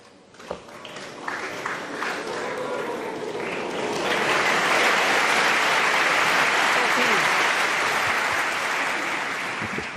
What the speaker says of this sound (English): The noise from the crowd as the red went towards the pocket.